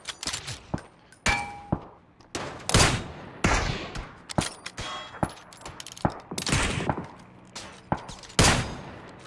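Sharp, spaced Kar98 rifle shots in a video game, loud cracks with ringing tails, fired irregularly a second or so apart among fainter distant shots and metallic clinks.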